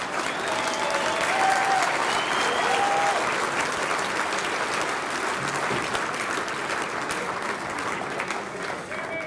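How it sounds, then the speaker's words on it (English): Hockey celebration crowd applauding a former player named Pebbles, steady dense clapping filling the room for the whole stretch, with a few faint voices and whoops mixed in. "Let's give Pebbles a round of applause."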